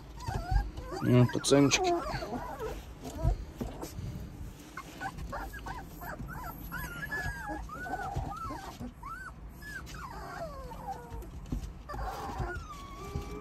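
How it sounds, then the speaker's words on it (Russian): Puppy of a Cuban breed growling and whimpering in short, high, wavering cries that come and go across the stretch, close by, with people talking over and between the sounds. "кто там рычит на меня?"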